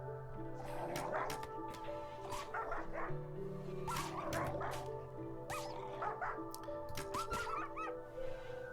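A dog in the RimWorld colony game, Alpha 16, barks and yips repeatedly in short bursts over steady game music and background hum.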